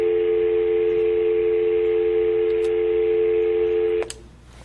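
A steady, loud telephone tone sounds during a call to a live interview show, then cuts off abruptly near the end and leaves low background hiss.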